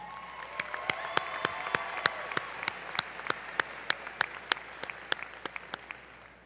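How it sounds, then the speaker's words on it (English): Audience applause at a Cleveland State University spring commencement ceremony, steady moderate clapping from a large crowd with sharp individual claps standing out, lasting several seconds. "A round of applause for Jessica."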